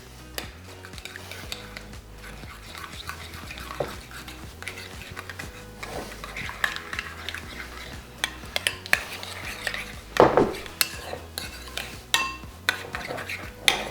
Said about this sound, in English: all we're going to do is just stir your marinade together using a spoon